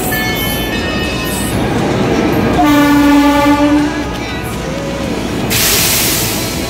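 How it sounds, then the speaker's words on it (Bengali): A passenger train hauled by a Ghaziabad-shed WAP5 electric locomotive, number 35007, pulls into Mathura Junction with a steady heavy rumble and wheel clatter, broken by one long, loud horn blast partway through. "আজ আমাদের ট্রেনকে হল করছে 35007 গাজিয়াবাদের শেডের WAP5 লোকোমোটিভ"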